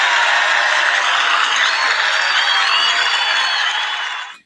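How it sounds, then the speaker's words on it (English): A dense, steady round of applause from a group of people, loud and unbroken for several seconds before tapering off quickly at the end. "We gotta give you a round of applause."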